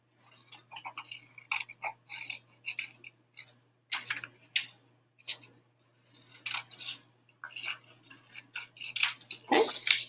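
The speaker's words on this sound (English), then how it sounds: "Just save a step and just cut it out as one big piece all the way around" Scissors cutting a large single piece out of paper, a quiet close-up series of crisp snips in short uneven bursts with brief pauses between them.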